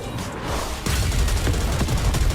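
Cannon bombardment from the video game Goddess of Victory: NIKKE comes as a loud close burst of rapid booming blasts that sets in sharply and continues as a dense barrage.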